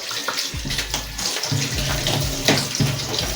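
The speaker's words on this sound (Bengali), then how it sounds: "এবার আমি ধুচ্ছি আলুগুলোকে।" Peeled potato halves for chicken biryani are washed under a running kitchen tap, with a steady close splash of water broken by bumps and clunks as the potatoes are handled in the sink.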